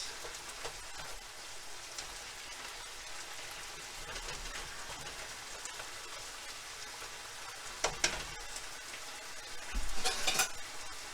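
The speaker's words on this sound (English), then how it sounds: "So just give it a quick stir. Try to break up these larger chunks." Chunks of boneless skinless chicken breast sizzle and fry in a pan while being stirred, making a steady crackling hiss throughout with a couple of louder scrapes near the end. No one speaks over the cooking.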